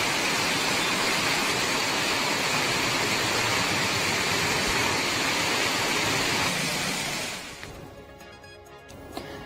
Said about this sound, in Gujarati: વાખલ, દેવગણા સહિતના વિસ્તારમાં ધોધમાર વરસાદ વરસ્યો છે.